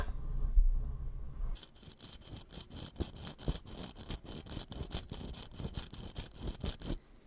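Gearing in the screw-down crown of a titanium supercompressor-style watch clicking as it turns the inner rotating bezel, a close, rapid run of small ratcheting clicks lasting several seconds after a brief quiet lead-in, with no talking.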